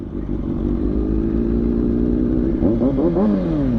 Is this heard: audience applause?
no